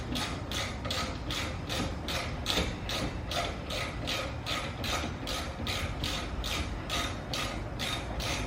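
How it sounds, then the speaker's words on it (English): A 12mm wrench ratcheting to loosen a brake line on a 2017 Toyota 86 during a coilover install, rapid regular metallic clicks repeating steadily, close and clear with no talking. "take your 12mm and go ahead and bust off the brake line"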